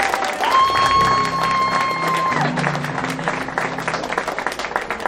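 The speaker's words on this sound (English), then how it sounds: "round of applause for a beautiful bride" Wedding guests applaud the bride during a best man speech, a loud burst of clapping from the crowd mixed with cheering, while a sustained musical tone rings over it early on before the applause thins out.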